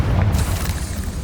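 A Confringo fire spell blast in Hogwarts Legacy, heard as a loud, booming explosion with a heavy low-end rumble that hits at once and rolls on without fading through the short moment.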